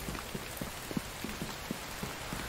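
Rain falls steadily in The Infected, a dense, even hiss with scattered closer droplet taps, continuous and alone without any talking.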